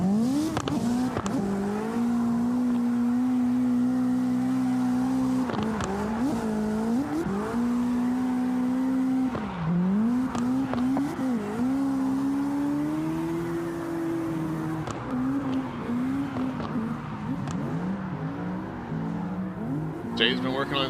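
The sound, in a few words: drift cars sliding at slidestyle practice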